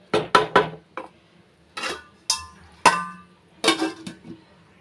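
A plate is set over a pan of sweet mango pachadi in a home kitchen, giving a series of sharp, close ceramic and metal clinks and knocks in uneven bursts separated by quiet gaps.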